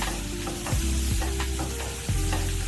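Bread pocket filling seasoned with pepper and salt being mixed in a hot pan, a continuous sizzle broken by repeated spatula scrapes and knocks against the pan, close and moderately loud, with no speech.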